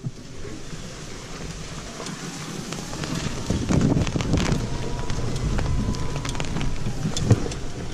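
Rain falling outdoors on a walk with husky dogs, a dense steady hiss mixed with wind buffeting the microphone, with occasional sharper drips and knocks close by.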